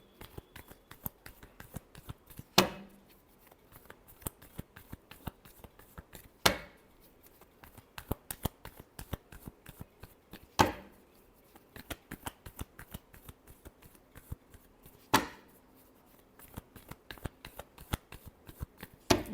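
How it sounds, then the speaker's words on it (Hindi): Tarot cards being shuffled in a quiet room, soft rapid riffling flutters broken by four sharper slaps as the deck is squared, close and alone without talk. "Last shuffle."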